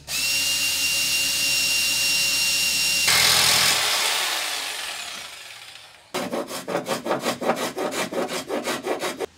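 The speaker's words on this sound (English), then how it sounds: "center holes, basically for the hole saw to drill" A hole saw cutting holes for a boat electronics mount: a loud, steady whirring cut that winds down over a few seconds, then a run of rapid rhythmic rasping strokes. Nobody speaks.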